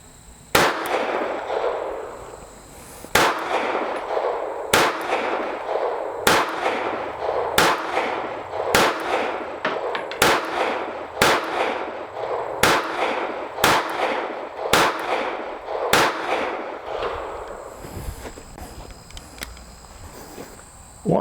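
Sig Sauer P365XL pistol firing twelve Perfecta rounds at a 15-yard silhouette target, sharp loud shots spaced roughly one to one-and-a-half seconds apart over a steady outdoor background hiss.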